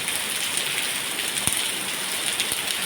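Steady heavy rainfall, a loud continuous hiss with faint scattered ticks and patters of drops, no voices heard.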